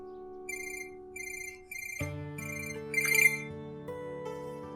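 A phone ringtone plays in short repeating electronic bursts, then shifts into a fuller melodic tune, clear and close with no talking over it.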